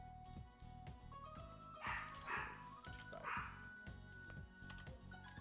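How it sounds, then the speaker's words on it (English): A dog barks repeatedly nearby, several short yips and woofs clustered in the middle, over a rhythmic pulsing background and a brief spoken word. "The dog's barking."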